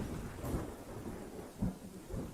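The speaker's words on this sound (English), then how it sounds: "But it was too rainy outside today." Steady rain falls outdoors with dull, low rumbles like distant thunder, a continuous hiss that swells in a few spots and has no voices over it.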